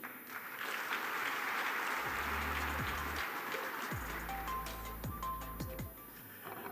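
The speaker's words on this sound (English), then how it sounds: "Another round of applause, please." Audience applause following a minister's speech at a digital-era forum, a broad, even crowd clapping heard from some distance, with low tonal hum and brief sliding tones running beneath it.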